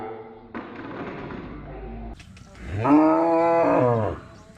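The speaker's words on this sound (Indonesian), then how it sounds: "Kita beli sapi Madura, jumlahnya 2 ekor" Madura cattle calling: a brief lower bellow is followed by a loud, drawn-out moo lasting over a second, close by, with faint background noise.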